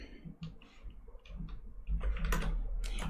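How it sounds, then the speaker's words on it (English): Fingers type on a computer keyboard at a trading desk, the keys clicking in quick irregular bursts. The clicks start out fairly soft and grow louder and denser in the second half, with no talking. "let me type this out"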